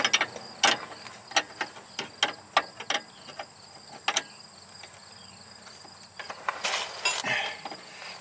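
Fittings on the steering rack of a 2005 Lexus ES330 are tightened with a hand tool, giving a close run of quick ratcheting clicks in bursts, with a pause before more clicking at the end.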